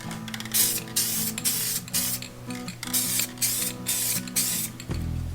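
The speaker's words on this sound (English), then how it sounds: "I'm going to spray it over my garbage can" Bursts of aerosol spray hiss in repeated short blasts with brief pauses between, close and loud, ending with a clunk.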